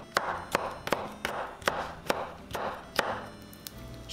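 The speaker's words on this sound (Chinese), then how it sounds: "甜黄椒切成条" A kitchen knife slices a sweet yellow pepper into strips on a cutting board, with about ten crisp, evenly spaced taps in a steady rhythm, close and clear with no talking.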